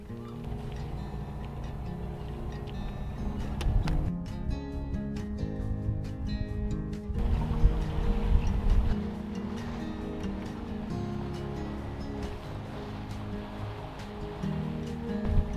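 A sailboat running downwind on the open sea in a moderate breeze of 8 to 12 knots, mainsail hoisted, gives a steady wash of wind and water with low rumbling and brief creaking and knocking throughout.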